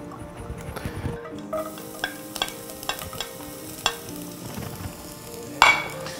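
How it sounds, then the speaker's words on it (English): Chopped pickled cabbage and chili cooking in a pan: a low continuous sizzle punctuated by a series of sharp spatula clicks and scrapes against the pan, close up, with a louder clatter near the end. "So let's cook the pickled cabbage."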